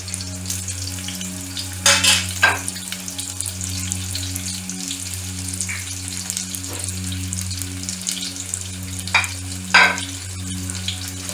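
Onion fries in hot oil over high gas heat, a steady crackling sizzle under a low steady hum, with a few sharper bursts of spatter and stirring scrapes, heard close and alone.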